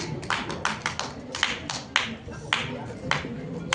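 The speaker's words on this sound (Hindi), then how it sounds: "तालियों में फिर से कमी आ गई।" Audience members at a ceremony honouring a women's police patrol team clap in sparse, uneven handclaps, the separate sharp slaps spaced roughly half a second apart, fairly close and moderately loud.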